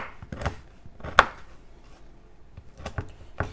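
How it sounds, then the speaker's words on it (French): A knife cuts a small piece of stale bread into little pieces on a board, with a handful of sharp, close chopping knocks spaced irregularly and quiet gaps between them. "prendre un petit morceau de pain rassis, le couper en petits morceaux"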